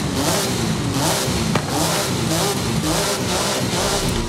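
A Porsche engine in the Forza Horizon 5 racing game revs loudly and steadily, its rising and falling mechanical drone pulsing in a regular rhythm close up, with no voices over it.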